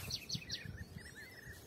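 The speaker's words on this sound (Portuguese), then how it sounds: "Ouvindo os pássaros cantar." Birds sing at dawn in the dry backcountry near a mountain range, with faint repeated high chirps and short whistled phrases over a quiet low rumble.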